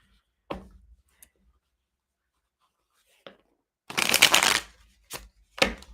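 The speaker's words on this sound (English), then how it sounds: "These cards are hard to shuffle." Tarot cards are shuffled in several separate bursts, with a long riffling stretch and a few shorter quick flutters close by, separated by quiet pauses.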